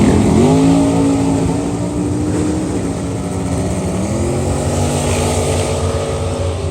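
A turbocharged race car engine roars loudly and steadily nearby, its pitch rising as it accelerates through a continuous high-revving pass.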